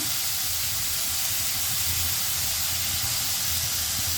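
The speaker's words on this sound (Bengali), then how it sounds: "পেঁয়াজগুলো ভাজি হয়ে গেছে এখন আমরা আলুগুলো দিয়ে দেবো" Potatoes added to fried onions in a pan sizzle with a loud, steady hiss that holds without a break, close up, with no talking.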